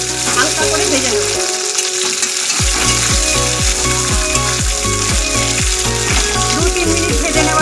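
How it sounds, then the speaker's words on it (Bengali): Green chili, whole garlic and chopped ginger, then a whole tomato, frying in hot oil in a home kitchen. Steady close sizzling throughout, with a brief drop after the first second, then repeated stirring and scraping clicks against the pan. "একটা কাঁচা লঙ্কা, গোটা রসুন আর টুকরো করা আদা একসাথে আমি ভেজে নেব।"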